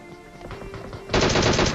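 Automatic gunfire in the mobile battle-royale game PUBG Mobile erupts suddenly and loud after a quieter stretch of game ambience, a dense continuous burst of rapid shots with no voices.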